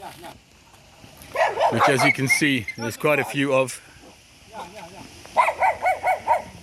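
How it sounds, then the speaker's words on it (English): Stray dogs being fed near the Ukrainian frontline bark in a quick run of several yaps near the end, following a stretch of someone talking. "these are some of the dogs that Lionel collects food aid for"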